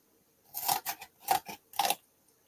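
Scissors make three quick pairs of crisp snips as they cut cardstock pieces for a paper pumpkin storage box, close and fairly quiet against a silent background.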